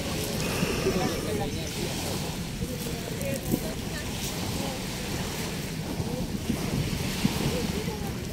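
Sea waves wash steadily along Manila Bay under gusty wind buffeting the microphone, a continuous broad surf rush that stays fairly loud throughout with no clear break.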